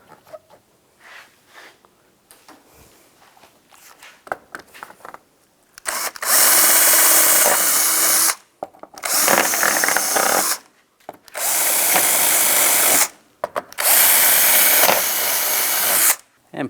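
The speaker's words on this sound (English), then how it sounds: "drill your holes" A power drill bores holes for a license plate bracket on a 2010-2016 Cadillac SRX, with four loud whirring bursts of about two seconds each, separated by short pauses, after a quiet start.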